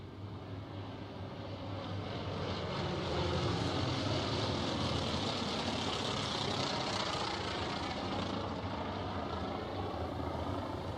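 A North American T-28 Trojan fitted with short racing exhaust stacks runs at an airshow, giving a loud, steady, rumbling engine roar that holds for about eleven seconds with no voices.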